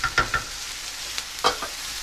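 Seafood frying in a one-pan pasta dish, a steady faint sizzle broken by a few quick spatula scrapes and taps against the pan, close and without voices.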